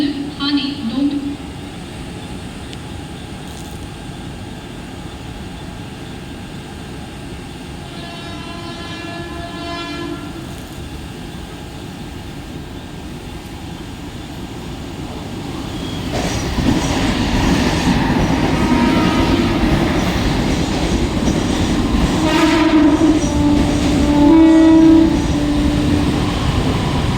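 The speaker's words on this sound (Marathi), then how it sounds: "10:19 की अंबरनाथ जाने वाली तेज लोकल थोड़े ही समय में प्लेटफॉर्म क्रमांक 3 पर आ रही है" A fast Central line local bound for Ambernath pulls into platform 3 at Vikhroli station in Mumbai, its rumble building from about sixteen seconds to a loud, close roar, with platform announcements and station noise beforehand.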